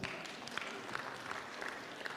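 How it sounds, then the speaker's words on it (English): Applause from an audience at a leadership workshop, a thin, steady patter of claps sustained at low level throughout with no talk over it. "Let's give Ketch a big round of applause"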